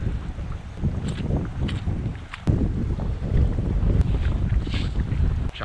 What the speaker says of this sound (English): Another windy day in paradise.